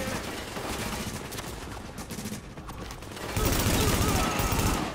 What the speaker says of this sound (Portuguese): Tô atirando o cara. Tô suprimindo ele.